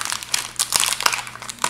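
Plastic wrapping on a set of Abeka Christian homeschool reading books is torn open close by, giving a run of sharp, crinkling bursts with no talking.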